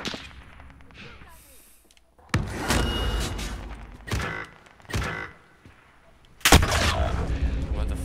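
Gunfire crackles in a first-person shooter video game, coming in several sharp, loud bursts separated by quieter gaps, with a heavy blast near the end.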